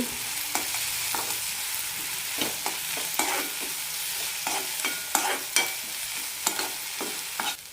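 Tomato and onion stirred with chili powder in a hot pan for chutney, a steady sizzle broken by repeated scraping and tapping of a spoon at an uneven rhythm.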